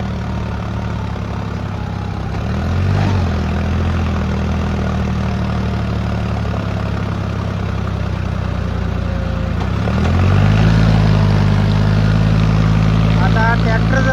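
Tractor engine labouring up a slope, a loud low droning rumble that holds steady, then rises in pitch and strength as it works harder near the end, with voices talking over it.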